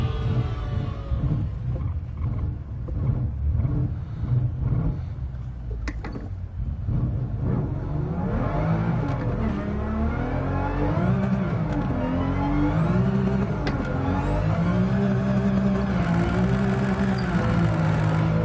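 A race car's engine in Gran Turismo 7 revs and wails at high speed, its pitch climbing and sweeping up and down during a drift, then holding steady in a loud, continuous drone.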